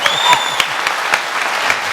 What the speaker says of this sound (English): now you can applaud all the candidates